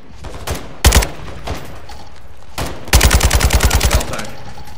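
Automatic gunfire in Call of Duty: Modern Warfare 2, with two short loud bursts early on, then a long rapid string of evenly spaced shots that trails off into quieter game ambience.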